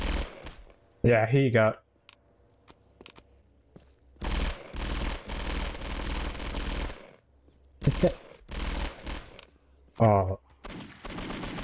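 Rapid bursts of video game gunfire from a scripted rapid-fire hack, several loud clusters of shots spread across the stretch with brief talk in between.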